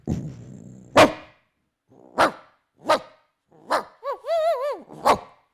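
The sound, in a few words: voice imitating an expensive dog's strong bark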